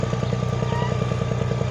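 A tractor engine chugs steadily at close range while clearing and pushing land for a vegetable plot, a loud, even rhythmic rumble with no talk over it.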